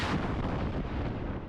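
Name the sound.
mobile artillery firing in Taiwan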